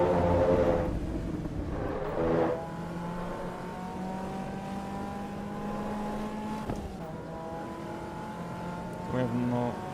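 A race car engine drones and shifts pitch as it is driven in the Assetto Corsa EVO racing simulator, steady revving with gear changes, while someone talks over it.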